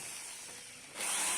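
A power drill bores screw holes, left and right, in a dead Hakasima mixer housing, its steady whine rising sharply in pitch and loudness near the end, close up with no speech.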